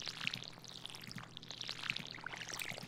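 A watering can pouring over crops in Stardew Valley, a soft trickling splash with small bright droplet ticks, fairly quiet and continuous.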